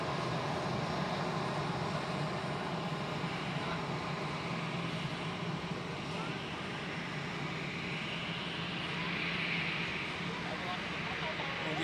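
A Singapore Airlines airliner moving at Zurich airport, with a steady, fairly faint jet engine roar in the distance that swells slightly toward the end.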